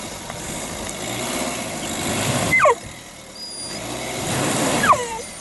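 A 4x4 revs hard, its engine roaring as all four wheels spin in fine, silty mud on a green lane. The engine swells, drops back and surges again, close and loud, with a short squeal between the surges.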